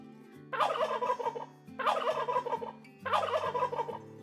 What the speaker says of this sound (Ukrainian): А це індик. Він курликає і ходить дуже важливо.